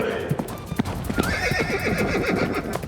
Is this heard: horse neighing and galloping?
yes